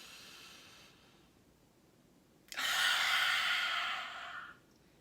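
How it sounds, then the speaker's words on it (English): A single deep inhale during a guided breathing exercise in a relaxation ritual, heard as a steady, close, airy rush that swells abruptly and holds for about two seconds before fading, with a quiet room around it. "So deep inhale."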